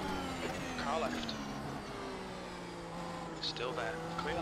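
A rival race car engine passes alongside in the iRacing Mercedes W13 game, a steady droning whine with shifting pitch under continuous engine noise, with a brief voice over the radio.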